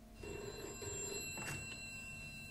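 A telephone rings in a Singapore setting, one short electronic ring burst heard clearly and close, then cut off as it is answered.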